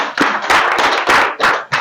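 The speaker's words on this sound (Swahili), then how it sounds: "Okay, makofi kwake." An audience claps for a speaker at a community gathering in Kariobangi, a short loud burst of applause in uneven waves, close and without talk.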